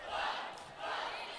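A volleyball crowd at a college match yells in two short swelling bursts, loud and close, filling a big indoor gym.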